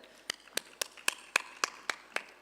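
About nine separate, evenly spaced hand claps ring out sharply at a plenary conference session, each crisp and distinct against a quiet room, like a small sparse group or a single person clapping.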